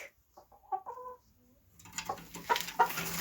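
A broody hen sitting on eggs gives a few soft, low clucks close by, followed by busier rustling and scattered faint clucking.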